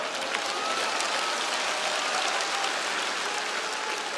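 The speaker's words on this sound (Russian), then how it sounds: "Громко аплодировали." Loud, steady applause from a theatre audience fills the hall, a dense unbroken patter with no voices standing out.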